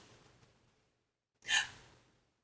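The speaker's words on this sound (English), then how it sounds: "So they're really short, quick breaths." A singer takes one quick, short, sharp breath in, close and clear after near silence.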